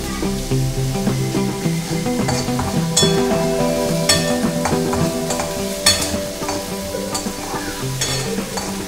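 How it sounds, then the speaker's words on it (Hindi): Onions fry in a pan for a fish curry after cumin, a loud continuous sizzle with stirring scrapes and occasional clinks of a utensil against the pan, close and steady. "देखिए मैं ऑनियन ऐड कर दिया है और ये फ्राई हो रहा है"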